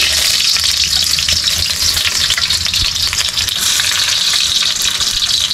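Garlic sizzles steadily in a hot pan, a loud, continuous crackling fry with occasional stirring scrapes and no voices.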